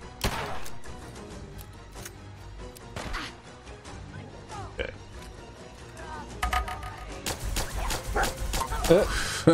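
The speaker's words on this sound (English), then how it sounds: "Oh, the dog was still chewing on him" Dog barking and growling in Fallout 4, sharp yips and barks breaking through busy game audio with music and combat noise, under continuous talk.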